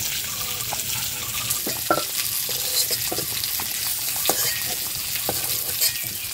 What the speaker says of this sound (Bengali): সিদ্ধ করে আলুগুলো এবার মা ভেজে নেবে।